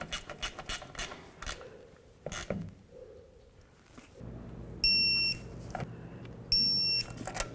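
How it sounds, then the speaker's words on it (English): A ratchet tightens the four differential cover mounting bolts on a 1994-2004 Chevy S-10, giving short bursts of rapid clicking near at hand, broken by pauses, with two sustained electronic beeps in the later half. "now it's gonna be time to go ahead and tighten up our four mounting bolts for this"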